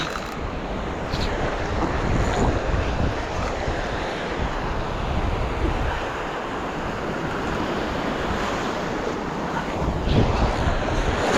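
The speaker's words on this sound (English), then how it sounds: "We're getting surrounded by waves and getting smashed by waves while fighting the fish." Waves crash and surge steadily against a fishing boat on open water during a fight with a hooked fish, with wind buffeting the microphone throughout and a slightly heavier wash near the end.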